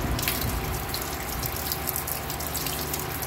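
Water runs and splashes steadily over brake parts from a Ford Everest as they are rinsed during a brake maintenance check, a continuous hissing flow with faint drips, fairly quiet and close, without talk.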